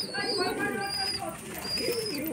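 Young pigeons in a dovecote coo and call softly at close range, a few rising warbled notes and high chirps, with a person talking over them.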